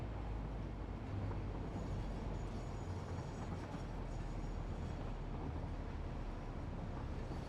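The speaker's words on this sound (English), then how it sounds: "We definitely need to separate all these trains again." Trains run in the factory-building video game Satisfactory, a steady dense rumble of rolling rail cars that holds at an even, moderate level throughout with no talking.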